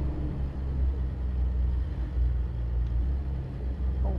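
Heavy truck with an FLX 359 engine labouring up a steep, low-traction hill in American Truck Simulator, a steady deep engine rumble held at light throttle throughout, loud and continuous with no talk.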